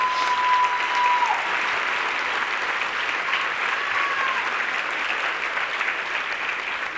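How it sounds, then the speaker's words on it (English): Sustained audience applause fills the room at an honoree speech event, a dense, steady wash of clapping at even loudness throughout, with a faint whistle-like tone drifting in briefly. "Please give them a round of applause."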